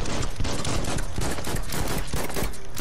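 Pistol fire in the Biomutant video game: a rapid, loud run of close shots, one after another almost without a gap, over dense game noise.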